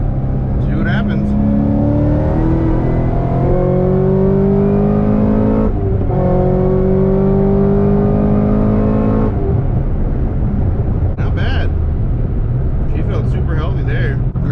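A Corvette ZR1 accelerates hard in third gear, its engine note climbing loudly and close up, then shifting and climbing again before easing off amid road traffic.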